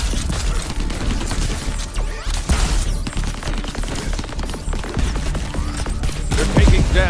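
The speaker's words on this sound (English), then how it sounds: "Station turrets are spinning up!" Station turrets in Crackdown 3 fire in dense, sustained bursts of rapid cracks and booming blasts, loud and close over a constant rumbling background of combat noise.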